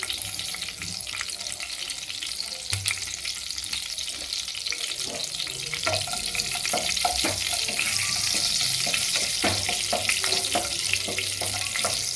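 Mustard seeds and curry leaves sizzle in hot oil while tempering for a fish thokku, a continuous close frying hiss with scattered crackles and pops throughout, and no talking.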